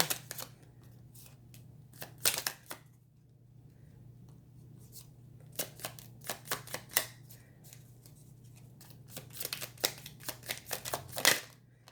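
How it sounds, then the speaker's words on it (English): Tarot cards being shuffled in a quiet room: bursts of crisp riffling and flicking that come in irregular clusters, close and fairly soft, with no talking. "I don't know if you've noticed when I shuffle these cards"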